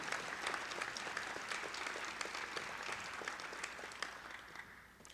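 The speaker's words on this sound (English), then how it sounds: "Another round of applause for our talented musical faculty." Faint, steady audience applause for musical faculty at a fall convocation ceremony, sustained dense clapping that tapers off near the end.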